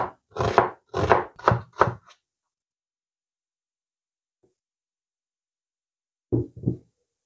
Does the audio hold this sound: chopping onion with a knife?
yes